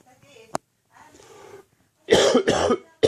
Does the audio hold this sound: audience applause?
no